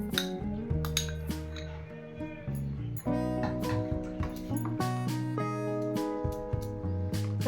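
Metal utensils clink and scrape steadily as prawns are stirred into the other ingredients for a potol chingri bhapa, a close, busy run of light taps and knocks with no talking.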